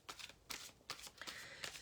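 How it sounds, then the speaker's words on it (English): A deck of tarot cards is shuffled in a few soft, papery bursts of riffling, close but quiet, with no talking. "So I'm just shuffling the cards now"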